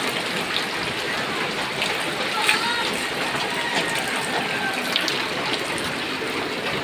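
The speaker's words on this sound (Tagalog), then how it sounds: "Tubig yun. Masok dito sa loob." Floodwater flows into a house in a steady, continuous wash and trickle, moderately loud and constant throughout, with occasional small splashes.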